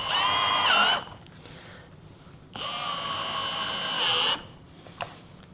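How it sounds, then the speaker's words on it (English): An electric drill whines in two bursts, each about a second or two long, with a quiet pause between them. "Definitely use a drill for this, not an impact driver."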